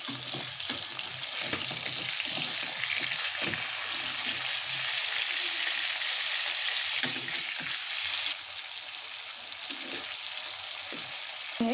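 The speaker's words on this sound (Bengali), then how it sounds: "এখানে আমার মাংসটা ভাজা হোক" Chicken pieces fry in a pan for a home-style spicy Bengali chicken curry, a steady loud sizzle with occasional stirring scrapes running throughout, no voices.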